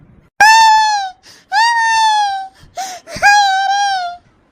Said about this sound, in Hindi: काहे रोवत हो?